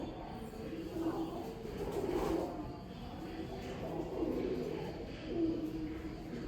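Soft, low pigeon cooing repeats in gentle swells over a murmuring background, fairly close but never loud.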